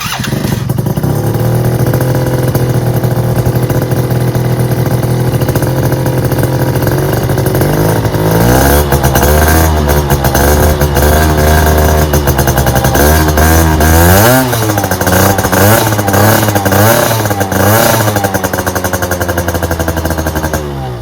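A two-stroke Yamaha Zuma 50cc scooter with an NCY pipe is electric-started and revved repeatedly up close, giving a loud, buzzy, raspy engine whine that rises and falls over a steady idle.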